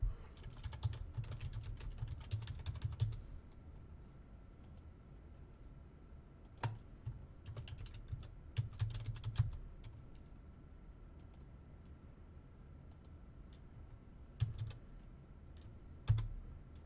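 Keys tapping on a computer keyboard while a web form is filled in, quiet bursts of rapid clicks separated by short pauses, close and alone with no talk.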